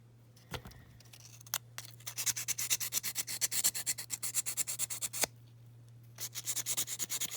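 Hand sanding a diecast Matchbox VW Beetle's axle with 240 grit sandpaper: rapid, rhythmic back-and-forth scratchy rubbing strokes, close up, with a brief pause midway and a steady low hum underneath.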